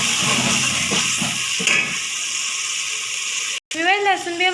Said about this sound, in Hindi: लहसुन भी हमारा थोड़ा सा फ्राई हो चुका है